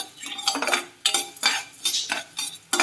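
Coriander seeds being stirred in a frying pan, a utensil scraping and clinking against the metal in repeated bursts, close and fairly loud with no voices.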